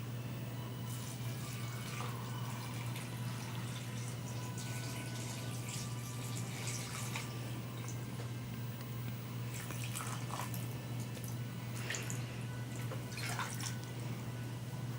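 Water poured onto cabbage to dilute it for a cabbage-juice pH indicator, a faint trickling and dripping with occasional splashes over a constant low electrical hum, no talking.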